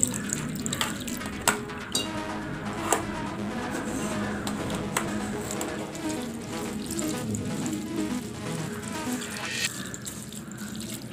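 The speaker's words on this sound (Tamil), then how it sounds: "அதனால் கொஞ்சம் நல்ல தண்ணி விட்டு இதை ஒரு தரம் அலசிக்கலாம்." Water pours and splashes steadily at a kitchen sink as lemon-curdled milk curds are rinsed for rasgulla, a continuous running-tap rush with occasional clinks, no talk.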